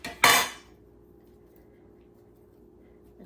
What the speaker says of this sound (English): I'm going to scrape my board because there was some pieces of butter that fell in